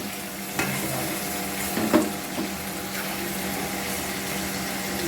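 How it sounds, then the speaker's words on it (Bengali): Chicken pieces for egg rolls fry in hot oil with a steady, dense sizzle, punctuated by a few soft knocks and bubbling pops, close up with no talk. "এইভাবে ভালো করে সুন্দর করে চিকেনগুলোকে ভেজে নিতে হবে।"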